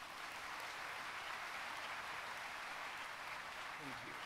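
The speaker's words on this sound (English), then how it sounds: "Please join me in a round of applause." Audience applause at a university commencement ceremony honoring the deans, a steady, dense wash of clapping that fills the hall evenly from start to finish.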